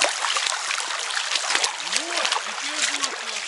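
A trail runner splashes through water during a multi-day 42 km trail race, with broadband splashing steady across the clip and someone speaking over it.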